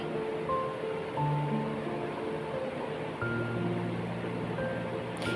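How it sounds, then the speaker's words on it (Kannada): Chopped onions frying in a pan until golden brown for a soya chicken starter, a steady close sizzle running the whole time with no talking. "ನೀರುಳ್ಳಿಯನ್ನು ಗೋಲ್ಡನ್ ಬ್ರೌನ್ ಆಗೋವರೆಗೂ ಚೆನ್ನಾಗಿ ಫ್ರೈ ಮಾಡ್ಕೊಳ್ಳಿ"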